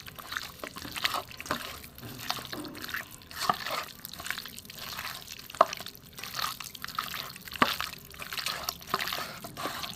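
Chicken is mixed by hand with spice paste and mustard oil, giving close, wet squelching and squishing sounds in irregular bursts, with occasional sharper slaps and drips.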